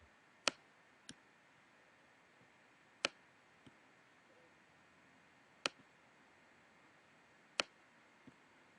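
Sharp, isolated mouse clicks ring out while a map center is set in a web deployment tool, about six quick taps spaced unevenly across a quiet room, some coming as close pairs.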